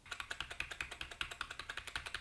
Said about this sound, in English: we're going to want to start pressing delete on the keyboard